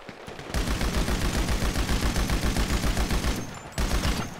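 Sustained automatic gunfire from a weapon in GTA 5 Online, a loud rapid rattle of shots running for about three seconds, then a short pause and another burst.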